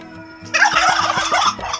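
Several farm turkeys break into loud, rapid gobbling close by, a burst of overlapping calls rising over a low background hum.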